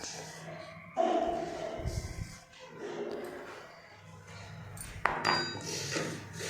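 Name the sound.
spoon scooping semolina (rava) in the kitchen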